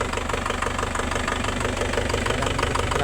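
A freshly overhauled engine idles steadily, with an even, rhythmic mechanical knock and a steady hum continuing close by throughout, with no voices.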